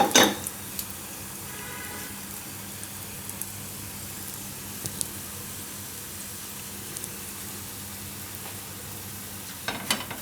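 Taro paratha cooking in a pan over a medium gas flame, a steady soft sizzle with a few faint clinks and scrapes, quiet and continuous with no talking.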